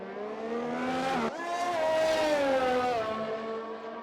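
Racing car engine from the F1 2020 video game in a league race at the Chinese GP, a loud sustained high-pitched whine that drops abruptly, then climbs again through the gears and holds steady, close and alone with no talk.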